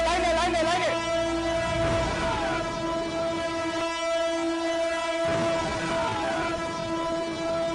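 Train at the Mogh Bazar rail crossing in Dhaka, its horn blaring in sustained, steady tones over the rumble of passing cars, loud and close throughout.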